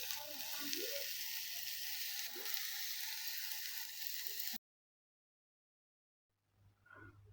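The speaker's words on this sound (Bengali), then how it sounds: "এই যে চুলার মধ্যে কিন্তু আমি আলুর ভাজি রান্না করতেছি" Potato bhaji fries on a clay stove with a steady, close, hissing sizzle for about four and a half seconds. The sound then cuts out abruptly, and a quieter sizzle and clatter return near the end.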